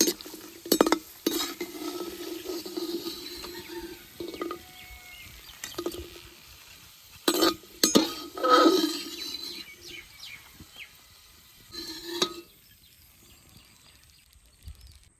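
A spoon stirring and scraping fried cashews and raisins out of a hot pan, with intermittent metallic clinks and clatters between quieter stretches, ending in near silence.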